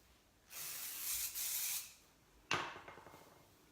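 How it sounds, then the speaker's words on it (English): Two bursts of hairspray hiss close by as it is sprayed onto hair, a longer one of over a second and then a shorter one, in an otherwise quiet room. "once I put hairspray in it, spray it with this finishing."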